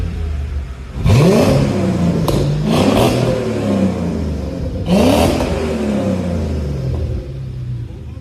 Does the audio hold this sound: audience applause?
no